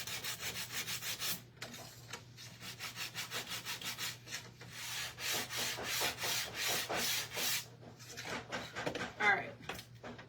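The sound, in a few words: sanding a wooden Snoopy scarecrow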